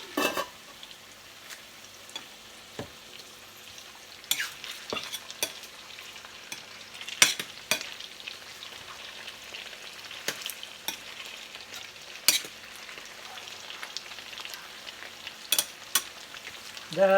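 Chicken kaldereta with carrots and potato cooking in a covered pot, giving a soft continuous sizzle with scattered sharp clinks and stirring knocks of utensils against the pot.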